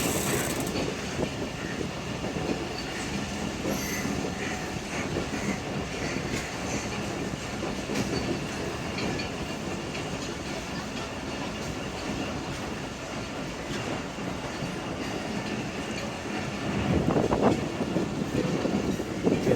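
Shalimar Express train in motion, steady rumble and rattle of carriages with faint clickety-clack and creaks of the coach, continuous and close, swelling slightly louder near the end.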